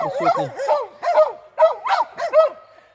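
Laika hunting dogs bark in a quick series of sharp, close yelps and barks, about eight bursts with short gaps between them.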